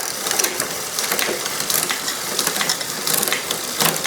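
Rapid mechanical clicking and ratcheting of a bicycle rear derailleur shifting gears on a newly assembled bike, close and continuous with small bursts of sharper clicks.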